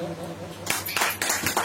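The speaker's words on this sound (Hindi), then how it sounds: "ताली बजाओ" A group of people clap together in a brief burst of applause just after a voice speaks.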